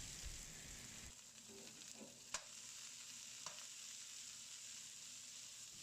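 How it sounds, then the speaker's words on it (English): Bell peppers stir-fry in hot oil in a pan after steaks, giving a continuous quiet sizzle with a few light clicks and scrapes of stirring, and no talk. "Add a little extra oil and put in the bell peppers for stir frying."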